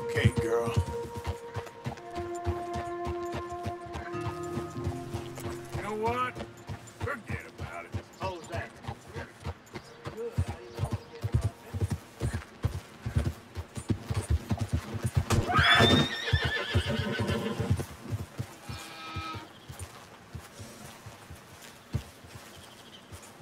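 A horse in Red Dead Redemption 2 clip-clops at a quick, steady rhythm and gives a loud whinny about midway, with leather and tack creaking and a voice talking over the hoofbeats.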